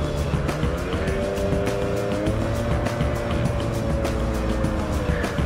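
A motorcycle engine hums steadily and builds throttle as the bike pulls away while filtering through urban traffic. Road and wind noise run continuously underneath.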